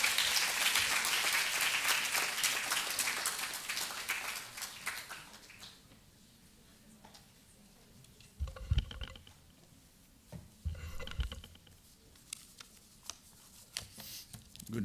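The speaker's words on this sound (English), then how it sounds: "let's all give a warm round of applause for Dr. Jose Joao Abrantes." Audience applause greets a lecturer at an academic law lecture, a dense burst of clapping that fades after about six seconds into scattered claps and shuffling in a quiet hall.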